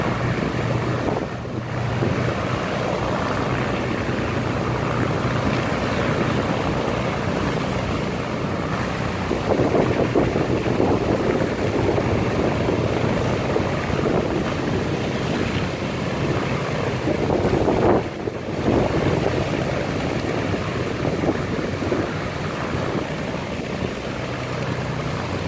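Steady wind rushes and buffets the microphone throughout on a road trip, a continuous loud roar with occasional gusts and no speech.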